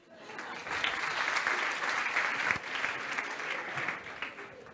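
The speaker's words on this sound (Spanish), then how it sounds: "Genial, un aplauso." Sustained applause from a conference audience during a Spanish education talk, steady dense clapping across the whole stretch with no voices on top.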